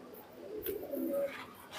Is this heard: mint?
no